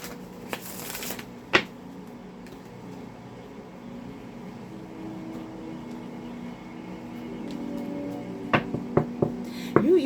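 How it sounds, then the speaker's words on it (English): Oracle cards being shuffled by hand, soft papery riffles and a few taps at the start, then quieter rustling, with a cluster of sharper card snaps near the end, close and with no talking. "I'm going to pull a card for you from the Inner Garden Oracle."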